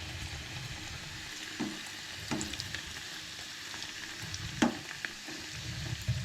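Homemade evening snacks frying in a pan give a constant close sizzle and bubbling, with occasional louder scrapes and clinks from stirring and no talking.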